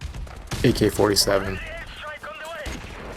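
AK-47 gunfire in the video game Modern Warfare rings out in a quick burst of close, loud shots, with game sounds and a voice mixed in.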